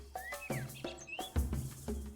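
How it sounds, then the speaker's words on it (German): Bird chirps and tweets in the Copycat video game, several short rising and falling calls spread across the stretch, with low rhythmic thumps like footsteps beneath them and no voices. "Ich höre den Vogel."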